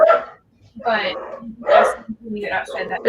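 A dog barks a few times in the background while people talk close by, the barks breaking through between their words.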